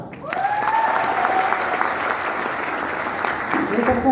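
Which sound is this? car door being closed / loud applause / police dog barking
loud applause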